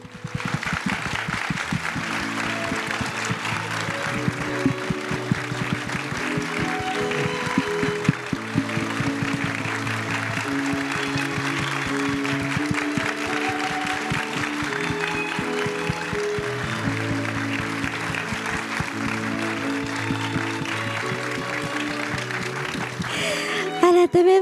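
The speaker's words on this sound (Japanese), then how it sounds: "どうぞ皆様拍手でお迎えくださいませ" Audience applause rolls on steadily at a film premiere stage greeting as the new cast member steps onstage, with upbeat music playing underneath the sustained clapping.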